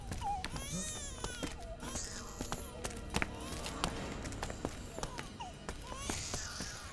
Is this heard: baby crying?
yes